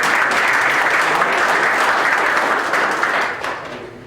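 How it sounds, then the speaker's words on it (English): At a township organizational meeting, attendees give a round of applause for years of service, a loud, close, steady clatter of many hands that tapers off near the end. "give them a round of applause"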